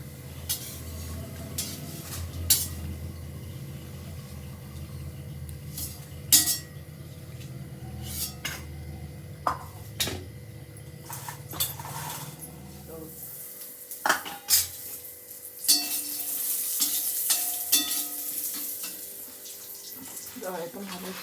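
Poha for chivda is fried in a slotted spoon dipped into hot oil, with intermittent metallic clinks and scrapes against the pan over a soft bubbling hiss, the clatter growing busier toward the end.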